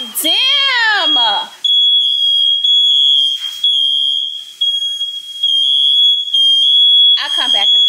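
A shrill smoke alarm beeps in long, piercing repeated tones, loud and near, while a person talks between and over the beeps.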